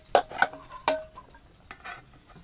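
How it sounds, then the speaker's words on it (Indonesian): A utensil scrapes and clinks against a pot while batagor dough is stirred, in a few sharp strokes followed by softer scraping. "Lalu kita aduk lagi. Ini adonan untuk batagornya."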